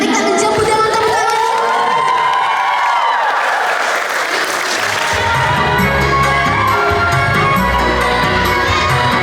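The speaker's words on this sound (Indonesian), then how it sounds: "Mari kita jemput dengan tepuk tangan." Loud audience applause mixed with cheering and children's shouts at a church Valentine's celebration, greeting a student performance; continuous, with whoops and high voices over the clapping.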